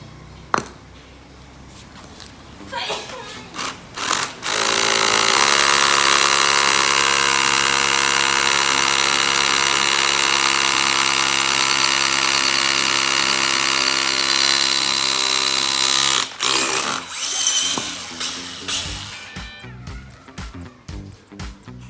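A Makita HR140D 12V cordless rotary hammer drills an anchor hole, roaring steadily for about ten seconds, loud and close, with clattering knocks and handling sounds before and after.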